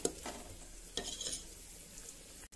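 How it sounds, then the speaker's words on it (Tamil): Peepal leaf sambar with sautéed greens and lentils is stirred in a pot, producing faint scraping strokes over a soft, low sizzle, heard up close with no voices. "நம்ம வதக்கின கீரையை பருப்புல ஆட் பண்ணியாச்சுங்க. நல்லா மிக்ஸ் பண்ணி விட்டுட்டு"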